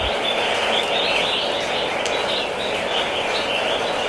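Red-whiskered bulbul songbird calling amid a dense, steady wash of bright chirps and whistles, with several birds singing at once from close by and no gaps.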